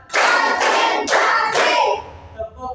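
Rhythmic group hand clapping in a classroom counting clap game: about four firm, evenly spaced claps, close and bright, followed by a faint voice.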